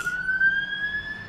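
A fire engine siren wails steadily in the distance, its tone rising slowly over a brief stretch.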